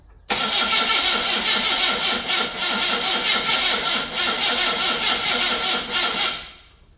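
An old yellow vehicle's engine fires and catches, running loud and rough with a fast, uneven beat for about six seconds before cutting off and fading.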